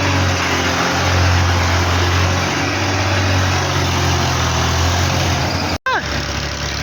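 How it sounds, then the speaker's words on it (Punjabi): A loud, close tractor engine rumbles steadily with a low throbbing drone, briefly cut off near the end before continuing. "ਟਰੈਕਟਰ ਆ ਗਿਆ।"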